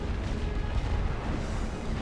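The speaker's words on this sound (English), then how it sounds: "Watch out for artillery burst" Artillery fire booms through a war video game, deep low rumbling blasts and concussive thuds rolling continuously at moderate loudness, with no voices.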